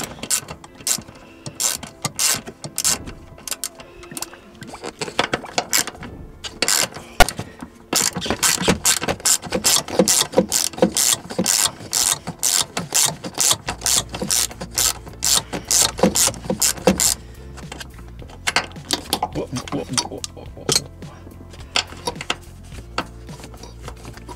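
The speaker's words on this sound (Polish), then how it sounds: "Więc odkręcamy śruby mocujące." A ratchet wrench loosens 12 mm mounting bolts on a Mitsubishi gear shift lever, with rapid clicking bursts, a steady run of ratcheting in the middle and metallic handling noises, close up with no talking.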